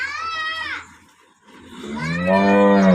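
Cattle on a dairy farm lowing in two long, loud moos close by, the first fading out before a short near-silent gap and the second swelling louder and deeper.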